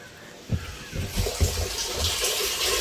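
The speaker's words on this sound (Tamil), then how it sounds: "நம்ம ட்ரம்மில் தண்ணி விழுகிற சவுண்டு கேட்குது." Water splashes and gushes into a drum, building to a steady pouring rush.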